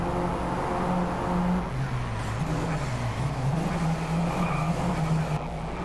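A Honda Civic IX Type-R with a 2-litre 16-valve turbo engine, aluminium block and head, drives in the racing game Driveclub: a sustained engine drone rising and falling in pitch, with tyre noise and a faint squeal, no talk.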